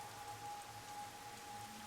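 Rain in the video game Master Detective Archives: Rain Code, a steady, soft hiss of falling rain with a faint tonal hum beneath, continuous and unbroken, with no voices.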